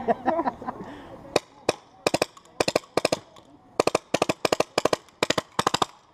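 Rapid bursts of sharp, snappy paintball marker shots on an HPA tank, fired in quick clusters of three to five, loud and close, after a brief stretch of talking at the start.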